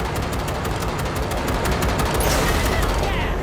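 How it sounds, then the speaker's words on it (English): Rapid loud gunfire in the Cyberpunk 2077 video game as a train coupler is shot out, a continuous dense burst of shots with a voice faintly underneath. "V, shoot out the damn coupler."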